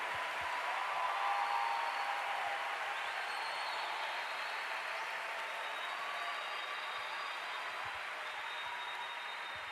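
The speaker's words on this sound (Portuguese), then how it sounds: "Vamos dar uma salva de palmas para Jesus, vivo, ressuscitado." A church congregation claps at an Easter Sunday service, dense sustained applause filling the space evenly from start to finish, moderately loud and without talk.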